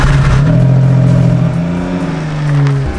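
A rented open-top car drives along a road on Magnetic Island, its engine humming loud and close with a steady drone that shifts pitch as it changes gear, with no talk over it.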